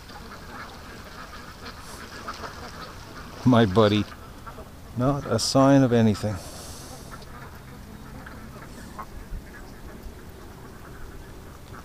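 A few raspy duck quacks come in two short bursts close by on a calm morning, with someone talking quietly before them.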